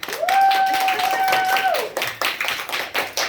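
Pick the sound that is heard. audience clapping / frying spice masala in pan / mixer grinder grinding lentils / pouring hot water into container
audience clapping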